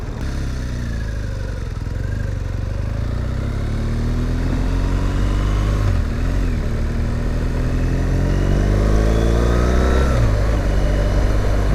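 A 2017 BMW R1200GS Rallye motorcycle is ridden at a steady pace, its engine humming near and continuous with rising and falling revs and wind rush, while faint talk sits underneath.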